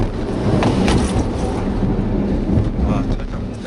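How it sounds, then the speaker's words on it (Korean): A MINI Countryman in sport mode in seventh gear brakes hard from speed, heard from inside as a loud, steady roar of road and tyre noise with a faint voice in the background. "스포츠 모드에 놓고 7단으로 올렸고요. 제동 한번 해볼게요"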